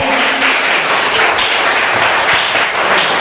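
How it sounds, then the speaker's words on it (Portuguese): Congregation applauding during a Portuguese-language evangelical church service, a loud, steady wash of many hands clapping at once, continuous throughout without pauses. "Aplauda mais uma vez ao Senhor"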